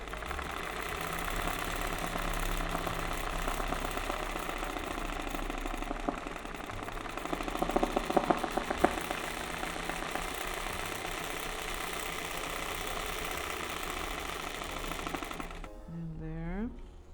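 A sewing machine doing free-motion zigzag embroidery of tropical birds gives a steady, continuous mechanical whir with a faint rapid needle clatter. It runs evenly at close range and stops just before the end.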